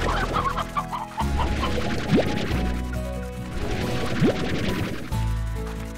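Chickens in the Slime Rancher video game cluck repeatedly over a busy background of in-game noise, with a couple of sharp whacks and crashes mixed in.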